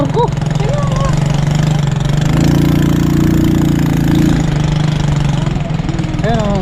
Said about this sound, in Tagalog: Buti pa dinala ko lang yung motor ko.